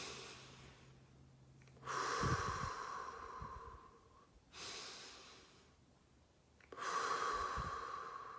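Slow, deliberate breaths during a guided Christian meditation, with long audible exhalations through the nose and mouth recurring about three times, close and fairly quiet against a low background.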